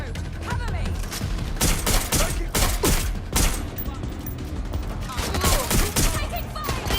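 Rapid gunfire in the Watch Dogs Legion video game, dense overlapping bursts and single shots throughout, loud and continuous with brief lulls.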